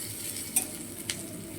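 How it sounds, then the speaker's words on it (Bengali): Bitter gourd fries in a pan with a soft, steady sizzle, punctuated by two short metallic clicks of a utensil against the pan. "তো আমি এদিকে উচ্ছে ভাজাটা চাপিয়ে দিয়েছি, উচ্ছে ভাজাটা হচ্ছে"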